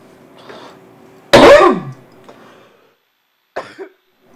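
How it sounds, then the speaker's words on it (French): A single hard cough from a man, loud and close, followed by a fainter throat-clearing sound a couple of seconds later, otherwise near silence. "Je baisse le son quand je tousse."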